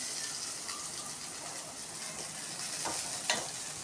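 Onions frying in a pan for chicken thokku kulambu, a steady bright sizzle that holds evenly throughout, with a couple of faint stirring scrapes near the end and no talking.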